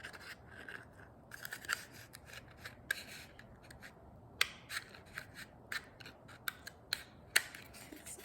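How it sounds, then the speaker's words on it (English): Scissors snip quietly through paper, with a series of crisp, irregular cuts over faint background hiss. "carefully grab your scissors and cut out that little hole"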